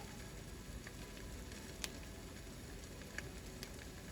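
Eggs frying in a home kitchen pan make a quiet, steady sizzle, with a few sharp pops and ticks scattered through it and no talking.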